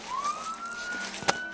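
A police siren rises in pitch as it approaches, a steady wailing tone, moderately loud with a brief sharp knock near the end.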